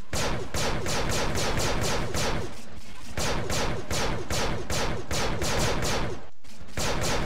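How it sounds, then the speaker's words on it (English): Rapid automatic gunfire from Star Wars Battlefront 2, aimed at incoming aircraft, rattles in long dense bursts with only brief gaps, loud and continuous throughout and free of talk. "We're just gonna do a quick gameplay of shooting down the three aircraft."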